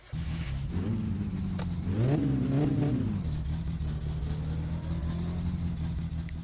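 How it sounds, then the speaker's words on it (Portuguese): Car engine revving in the driving game My Summer Car, a steady mid-pitched drone that rises in a surge around the middle before settling back to an even idle-like hum, continuous and close with no talk. "Eu vou deixar o carro esquentar um pouco, né? Pra não sair moendo ele já frio"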